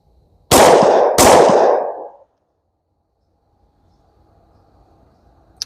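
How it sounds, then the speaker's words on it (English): Two loud 10mm pistol shots fired as a quick double tap with CCI Blazer aluminum-case ammunition, each sharp crack trailing into a short echoing decay, followed by near silence and a faint click at the end. "let's get a double tap on the center mass there"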